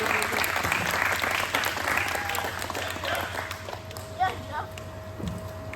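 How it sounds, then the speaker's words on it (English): An audience applauds as someone joins the stage at an event in Saratoga Springs, busy clapping mixed with crowd noise and shuffling steps, fading gradually while a voice and a faint steady tone carry underneath. "Give Jeff a round of applause."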